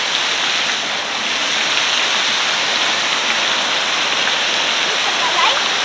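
A steady, broadband roar of rushing water from a nearby waterfall in Lithuania, constant and loud throughout with no pauses.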